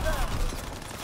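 Rapid gunfire from an M1 Garand and other weapons in Call of Duty WW2 gameplay, a short burst of overlapping shots with shouted voices in the mix.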